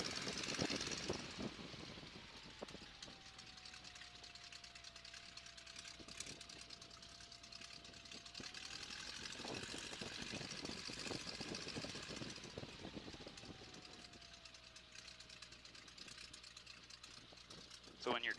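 A Boeing N2S-3 Stearman biplane engine drones steadily while taxiing toward the runway, a near, continuous rumble that rises slightly as power is added, with voices talking over it.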